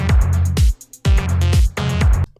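A techno or tech-house synth chord part plays in loud rhythmic stabs over a heavy pulsing beat, three bursts of chords with brief gaps between, alone without voices.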